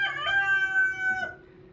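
A farm rooster crows one long, clear cock-a-doodle-doo, moderately close and tapering off at the end, over a quiet outdoor background without speech.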